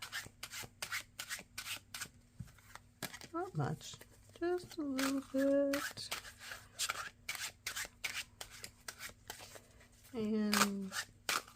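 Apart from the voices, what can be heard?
quick shuffle of a card deck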